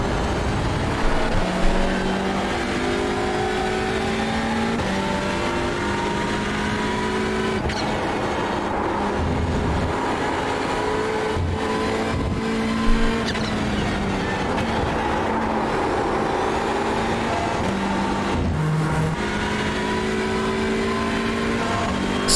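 Hyundai Elantra touring race car in iRacing at Watkins Glen, its engine droning steadily throughout with rising and falling gear pulls and brief shift blips, loud and continuous with no talking.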